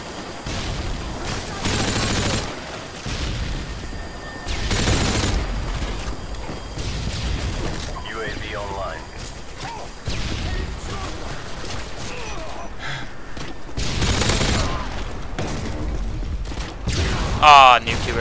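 Gunfire in a first-person shooter video game comes in repeated loud bursts of rapid shots and mechanical clatter aimed at the player, with someone talking over much of it.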